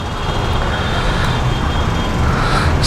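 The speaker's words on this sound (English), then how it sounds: "that's the sound of the parallel twin" The parallel twin engine of a Kawasaki Versys 650 motorcycle drones as a steady, loud, broadband rumble with no distinct rev changes and no talk.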